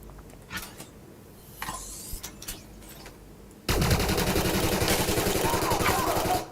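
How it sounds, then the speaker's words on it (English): Eclipse weapon in Elite Dangerous opening up in a sudden, loud, sustained automatic burst of rapid rattling fire, following a few scattered clicks and clanks during the quieter first half. "This that weapon is not quiet, by the way. That Eclipse weapon. It is not silenced."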